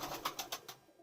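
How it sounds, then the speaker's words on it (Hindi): An Imam Deen breed pigeon coos in a soft, rhythmic run of about five quick pulses that fade out, faint and close by, with no talk over it. "ये माशाल्लाह कबूतर हैं अभी भाई के"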